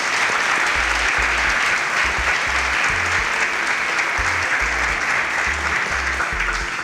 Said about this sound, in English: A round of applause for Mercy